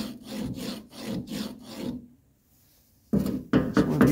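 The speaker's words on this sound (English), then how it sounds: "That stuff scrapes right off of there." Gummy diesel buildup is scraped off a door striker from a 1982 Mercedes 240D, heard as several close rasping strokes in a rhythmic run, then a short silence, then two more harsh scrapes.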